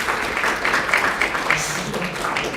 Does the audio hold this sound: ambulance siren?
no